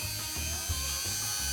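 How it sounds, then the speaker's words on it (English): A Dremel rotary tool carves into a pumpkin with a steady high whine, while low buzzing pulses rise and fall as the bit bites into the flesh. The sound is close and brief, with no talk. "we're gonna find out if we can carve a pumpkin with a Dremel tool."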